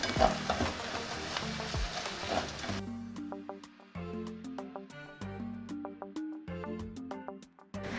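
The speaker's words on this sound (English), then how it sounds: "I'm going to fry it for a few more minutes." Gizdodo sauce frying in a pan, a soft bubbling sizzle with a run of regular spoon clinks and scrapes against the pan, close and moderately quiet, with no talk.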